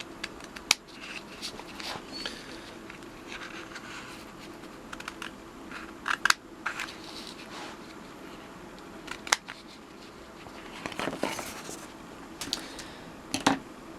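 Sheet of printed stickers being cut apart for a reproduction Dinky Toys 355 Tioxide Lunar Rover model: close, irregular snips and sharp papery clicks scattered over a low, steady background, with no talking.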